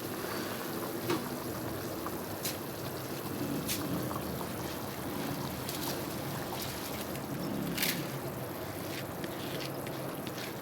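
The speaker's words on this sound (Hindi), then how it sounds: "पानी जो है वो बॉयल होना शुरू हो गया है। अब इसमें मैं चावल ऐड कर दूँगी।" Rice is added to a pot of boiling water for beef pulao, giving a faint pouring patter over soft bubbling, with a few sharp clicks and no talk.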